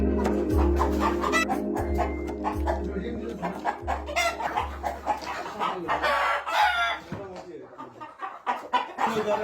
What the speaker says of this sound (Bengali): এটা হচ্ছে টাইগার মুরগির বাচ্চা